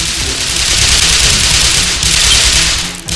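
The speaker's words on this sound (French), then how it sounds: "Rapport situation sur les énormes coups de feu que je viens d'entendre." A continuous, dense crackle of rapid gunfire in Garry's Mod Black Mesa roleplay fills the whole stretch, loud and hissy with no pauses, like sustained automatic fire.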